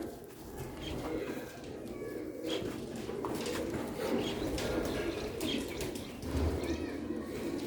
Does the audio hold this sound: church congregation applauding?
no